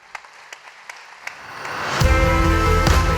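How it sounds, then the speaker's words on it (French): Applause at a New Year's greetings ceremony for a young student, starting faint and scattered with a few claps, then swelling into a loud, dense crowd ovation. "un tonnerre d'applaudissements pour Jade Alcalde Papaupi"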